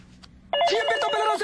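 After a moment of near quiet, a telephone suddenly rings loud and close in a Telugu film scene, a bright, trilling bell that keeps sounding to the end.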